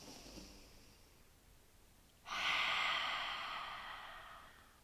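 A deep breath exhaled through an open mouth during a power yoga session, a soft inhale followed by a sudden, loud, breathy release that slowly fades away.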